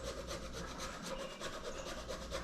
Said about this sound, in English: I like to use these graters.